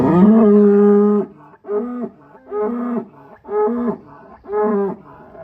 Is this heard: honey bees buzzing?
no